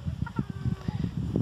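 A moulting, heavily plucked rooster clucks in a short, close burst of several low, rhythmic clucks among farmyard fowl, with no speech.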